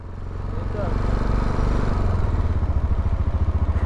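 A Mash 400 motorcycle with a sidecar runs steadily and loud close by, its single-cylinder engine thumping in a fast, even pulse that swells slightly in the first second and then holds.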